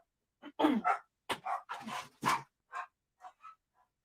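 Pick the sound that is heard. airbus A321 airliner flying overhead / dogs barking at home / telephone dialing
dogs barking at home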